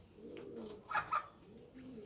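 Pigeons coo softly in a rooftop loft on a cold morning, a few low, faint throaty calls with a brief brighter flutter in the middle, with no voices present.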